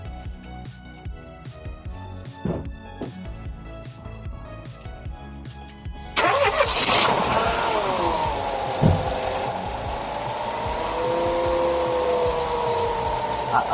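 A car engine cranks and catches, then settles into a steady running drone with a whining belt-driven tone, loud and close after a stretch of quieter clatter.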